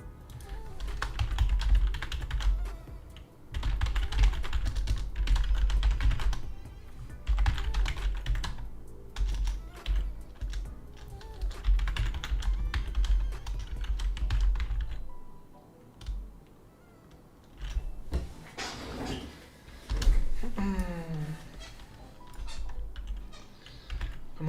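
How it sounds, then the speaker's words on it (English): Rapid typing on a computer keyboard, dense bursts of clicking keys with brief pauses, close and fairly loud. "I don't know what you're typing"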